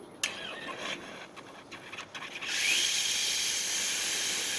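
A La Rocca Verona Express one-group commercial coffee machine with intermittent clicks and faint bursts at first, then a loud continuous steam hiss that starts about halfway and keeps going to the end.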